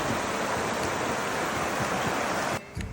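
Tap Tim Siam waterfall in Sangkha, Surin, flowing heavily in the rainy season: a steady, dense roar of rushing water that drops away abruptly near the end.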